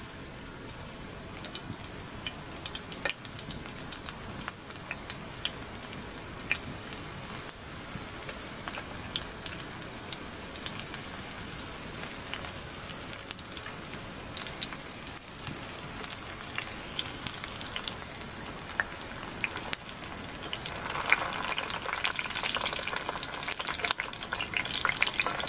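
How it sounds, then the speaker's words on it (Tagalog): Eggplant pieces frying in hot oil, a continuous close hiss and crackle of sizzling with scattered pops and spatters, steady throughout with no talking. "At kapag mainit na yung ating mantika, pipilito na natin tong ating talong."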